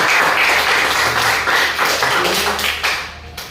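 An audience in a classroom setting claps in applause, a close burst of many hands with tapping rhythm that stays strong and then thins out toward the end.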